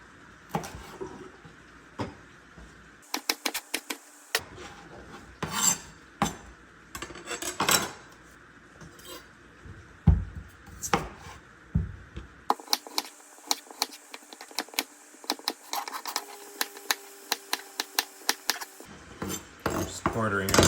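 A knife chops two celery stalks on a cutting board for a pork stew, giving sharp, close, uneven taps and clacks in quick bursts with short pauses between runs, against a low kitchen background with no talk.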